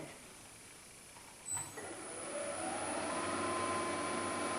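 A wood lathe turning a bowl for sanding spins up to a higher speed, its steady whine rising in pitch and holding as a constant close hum. No talk.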